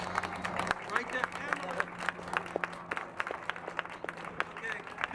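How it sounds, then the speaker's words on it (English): Applause from an audience at a public event on a fair-chance hiring ordinance, steady clapping that continues throughout with voices mixed in. "Everybody got to give a round of applause right here, right now, right there."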